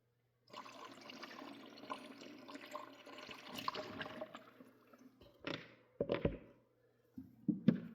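Water sloshes and gurgles inside a car battery as it is flushed, a few seconds of continuous churning followed by short bursts of splashing, fairly quiet and close, with no voices.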